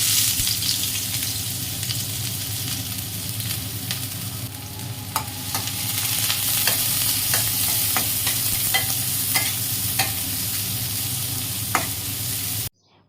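Onions fry in a pan with a continuous hiss, while a utensil scrapes and taps the pan in irregular stirring clicks throughout.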